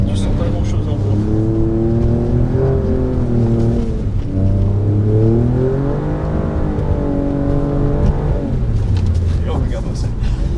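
An Alfa Romeo Giulia Quadrifoglio engine while drifting holds a loud, continuous note that rises and falls as the revs swing, and someone talks over it.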